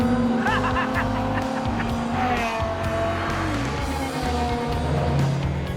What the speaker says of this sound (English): That car is seriously fast.